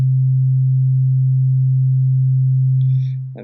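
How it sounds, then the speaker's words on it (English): A single synthesizer sine wave drone, one pure harmonic, holds steady and loud for about three seconds before fading out with a faint trailing blip. "So here's a sine wave."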